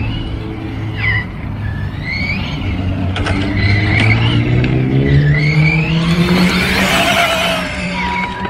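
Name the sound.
RC car (Reely) accelerating at full throttle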